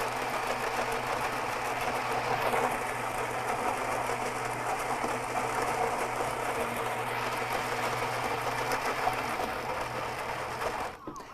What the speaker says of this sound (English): I didn't want to talk over the grinder